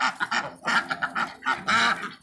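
Ducks quack loudly and repeatedly up close, a rapid series of harsh, raspy calls in quick bursts.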